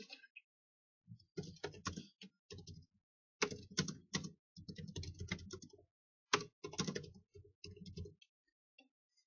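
Typing a message on a computer keyboard, close and quiet, with irregular clusters of key clicks separated by short pauses, heard alone.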